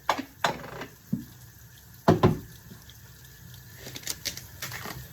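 A household shower turned to full cold sprays and splashes in irregular bursts, with brief louder gushes separated by quieter stretches of running water.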